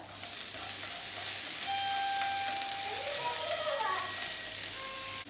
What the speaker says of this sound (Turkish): Pirincimi de arpa şehriyemle birlikte kavuruyorum biraz.